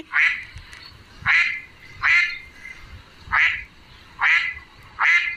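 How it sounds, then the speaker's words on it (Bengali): A duck quacks six times in a fairly even rhythm, each call loud, nasal and close, with quiet gaps between. "হাঁসটি তার ভাইকে নিয়ে কিনারায় চলে আসে"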